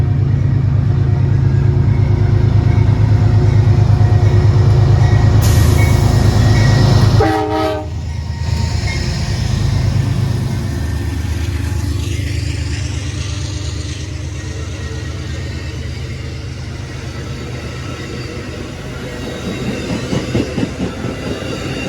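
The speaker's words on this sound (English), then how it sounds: "There's the first train we just caught right now." An Amtrak passenger train rumbles loudly past up close at Depew station, its horn blaring briefly before the steady roar fades into rhythmic clacking of wheels over rail joints.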